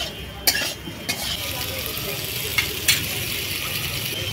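Prawns and pointed gourd hit a hot wok and sizzle steadily, with a metal spatula scraping and clinking against the pan several times over a continuous frying hiss.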